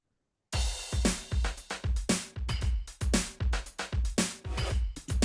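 A fast drum pattern from MTV Music Generator, kick drum completely dry with no plugins, starts after a brief silence. Heavy low kicks and crisp hits follow in a quick, uneven groove with no voices.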